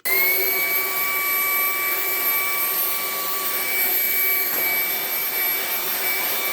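A Ryobi HP stick vacuum runs steadily with its nozzle on sawdust, a loud continuous whine with sharp tonal harmonics, holding the same pitch throughout without talk.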